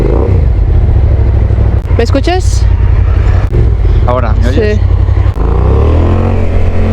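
A motorcycle engine drones loudly and steadily up close, with people talking briefly over it.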